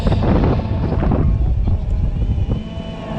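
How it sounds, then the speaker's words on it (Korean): Strong gusting wind on a fishing boat out at sea during octopus fishing, a loud, continuous low roar buffeting the microphone close up. "갑자기 바람이 불어가지고 장난 아닙니다"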